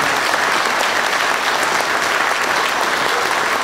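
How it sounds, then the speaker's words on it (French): An audience at an afternoon choir and music show claps for the performers, dense steady applause filling the hall at full volume throughout. "je vous invite à applaudir les artistes qui se sont produits devant vous cet après-midi"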